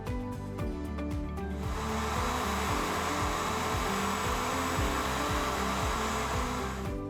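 A Greenworks 60V hybrid wet/dry vacuum runs with a loud, steady motor whine and airflow roar. It holds at a constant level after a brief switch-on at the start, with no voices.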